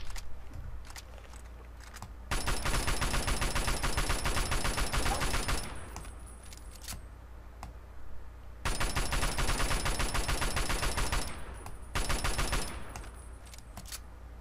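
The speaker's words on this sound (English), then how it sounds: "Who is shooting me?" Automatic gunfire in Fallout 3's The Pitt slave camp, two long sustained bursts of rapid shots with shorter bursts between, fairly close and loud, no talking.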